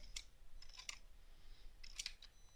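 A few light keystrokes tap on a computer keyboard while someone types text into a document, sounding as faint, quick clicks in small clusters against quiet room hiss.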